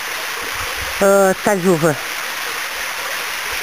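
Steady broadband rush of a roughly 45-metre canyon waterfall fills the whole clip, with a brief spoken voice partway through.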